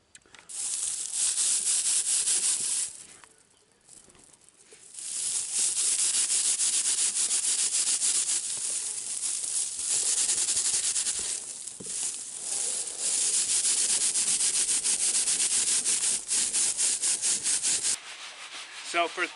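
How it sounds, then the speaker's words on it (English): Dried wheat heads rubbed between bare hands to free the grain from the chaff, a steady close dry rasping and crackling that pauses briefly a few times before resuming. "Just rubbing it between my hands."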